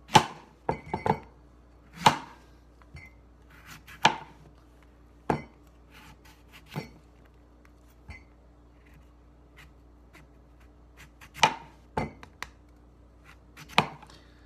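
A sharp kitchen knife chops lemon and ginger on a board in crisp, irregular strikes, some clustered and some spaced apart, close up over a quiet background.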